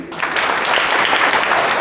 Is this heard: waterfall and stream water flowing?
no